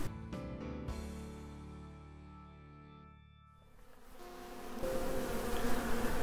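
Honeybees buzz at a hive in a beekeeper's apiary, where a Nicot queen-rearing cassette has been set into the colony; a steady insect drone with a few sharp knocks and clicks at the start, then a busier, closer hum.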